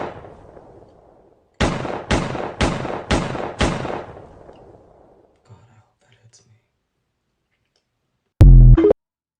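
Five sharp, evenly spaced gunshots ring out on a city street in what appears to be Midtown Chicago, loud and close, followed by faint scattered noises and one more abrupt loud burst near the end.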